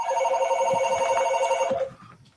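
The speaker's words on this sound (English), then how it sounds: "It's Donna phoning you" A telephone rings with a steady, repeating electronic trill, loud and close, then cuts off near the end, with no talk over it.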